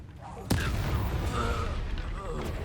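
A Confringo fire spell blasts in Hogwarts Legacy, a sharp burst followed by a sustained rumbling roar with crackling, while a character's voice shouts over it.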